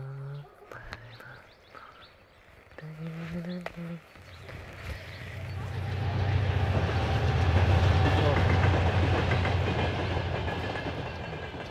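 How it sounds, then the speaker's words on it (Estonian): A train passes on the railway about 50 meters from a home in Aruküla, Tallinn. Voice-like sounds and birds come first, then a heavy rumble swells and holds with rhythmic wheel clatter, loud and near. "see tohutu rongimüra, see on ikka tohutu"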